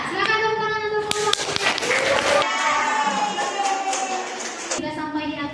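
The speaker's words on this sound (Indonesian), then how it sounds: "Silakan tepuk tangan untuk kelompok" Students in a classroom give applause for a presenting group, with clapping mixed with children's shouts and cheering voices throughout.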